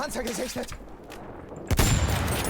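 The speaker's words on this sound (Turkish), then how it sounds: "Patladı güzel." Tank exploding amid gunfire in the video game Battlefield 1: scattered shots and muffled battle noise, then a sudden loud, broad blast bursts out and rumbles on.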